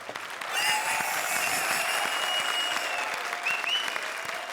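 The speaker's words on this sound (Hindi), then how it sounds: "चलो क्या तालियां बजा रहे हो" Studio audience at a comedy show bursts into loud, dense applause that swells in after a brief moment and holds steady, sustained clapping throughout with a few faint whistles on top.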